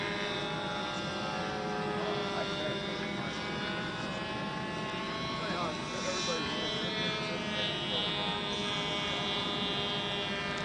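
Model airplane flying overhead, its small engine giving a steady buzzing drone throughout, with people talking over it outdoors.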